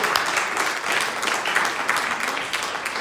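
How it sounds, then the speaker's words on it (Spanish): An audience at a Sunday 5 pm gathering applauds, a dense, steady clapping that fills the whole stretch at an even loudness with no pause and no talk. "darle otro fuerte aplauso,"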